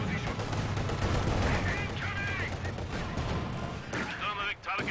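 Sustained game gunfire from an IL-2 Sturmovik strafing run in Company of Heroes 2, a dense rattling barrage running throughout with voices layered over it.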